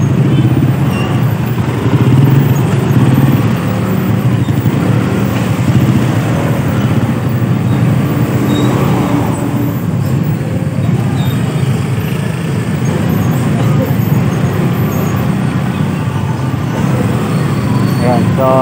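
Busy road traffic in San Jose del Monte, Bulacan, a continuous loud rumble of cars, motorcycles and buses passing close by, with engine noise steady throughout and no clear breaks.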